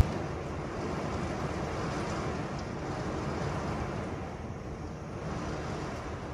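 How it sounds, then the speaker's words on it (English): Wind and rain blow steadily outdoors on a cold evening, a dense, even wash of noise with gusty wind buffeting the microphone and no other clear sounds. "It's raining. It's cold out. It's windy."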